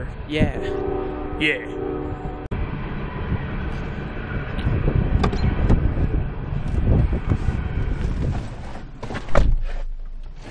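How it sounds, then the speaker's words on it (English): A heavy rumbling pass of a train close by, rising and rolling on with clanks and thumps while a voice briefly speaks over it. "there's a train going by"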